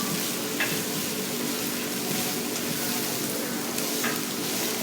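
Vegetables sizzle hard in a wok while stir-frying chicken chow mein, a loud continuous frying hiss broken by a couple of brief scraping stirs, with no talking.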